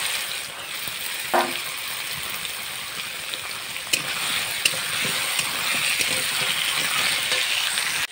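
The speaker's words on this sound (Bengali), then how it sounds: "কচু আর আলুটা দিয়ে বেশ একটু কিছুক্ষণ কষিয়ে নিতে হবে।" Taro and potato frying in a pan, with a steady broadband sizzle running throughout, punctuated by occasional clinks and scrapes of stirring; it sounds close and continuous, with no talking.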